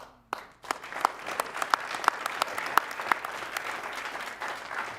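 An audience claps at an event celebrating a dance troupe, with sharp separate claps growing into steady, moderately loud applause after a brief pause at the start.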